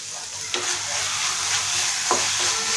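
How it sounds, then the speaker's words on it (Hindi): Paneer bhurji being stirred in a pan after a quarter teaspoon of garam masala goes in, with a steady sizzle underneath and two soft scraping strokes of the spoon, close and alone. "गरम मसाला अच्छे से मिक्स कर देंगे"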